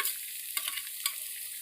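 Ground dried chili paste sautéed in a pan makes a dense, hissing fry, broken by two quick stirring scrapes of a spatula in the brief moment.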